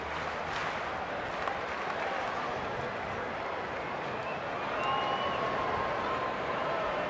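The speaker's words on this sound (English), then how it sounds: "Bregman gets a round of applause" Baseball stadium crowd at a Cardinals–Cubs game applauding a player, a broad, fairly quiet wash of clapping and crowd noise that holds steady and swells slightly near the end, with a commentator talking over it.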